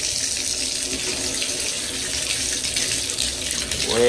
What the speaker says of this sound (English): now I'm gonna turn the water on